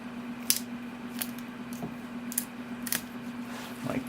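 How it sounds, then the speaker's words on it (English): Scissors snip through thick, fleshy aloe succulent leaves during pruning, about eight crisp, separate cuts at irregular intervals, close and clear over a faint steady hum. "I just cut through the base of the leaf"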